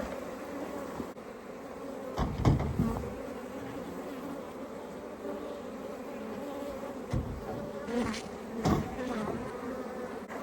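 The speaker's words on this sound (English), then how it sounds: "there's quite a few bees in there" Africanized honey bees buzz steadily inside a Langstroth hive box in a residential area, a close, continuous drone with a few louder bumps and knocks as the box is handled. No one speaks.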